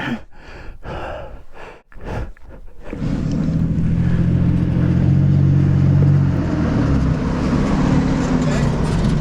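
A motorcycle straining through sand, its engine roaring steadily and loudly after a few seconds of heavy panting breaths close by.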